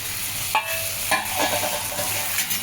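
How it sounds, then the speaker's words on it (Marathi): Cluster beans tossed with masala sizzle loudly in a hot pan, with a constant frying hiss broken by a few scraping stirs of a spatula. "व्यवस्थित गवारीला परतून घ्यायचा आहे मसाला।"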